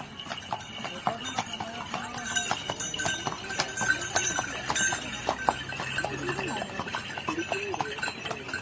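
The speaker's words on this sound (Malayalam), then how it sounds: "ഒരു കുതിര ആൾ വരും കുതിര വരുന്നുണ്ടേ കുതിര" Horse hooves clip-clop in a steady rhythm on a hard path during a horse ride through a farm, with people talking nearby and faint animal sounds in the background.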